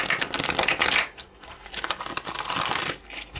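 Laminated tarot cards being riffle shuffled at close range, a dense crackling flutter of snapping card edges in several bursts with a short pause partway through.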